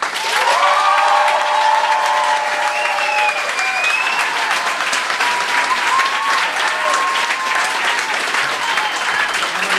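Loud, sustained applause fills a comedy stage show, with a sustained crowd roar and a few whistles or cheers mixed into the clapping.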